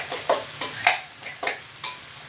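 A dab of mayonnaise mixed with plenty of lemon juice into a sauce, heard as five or six soft, rhythmic scraping strokes of a spoon against a bowl, close and alone.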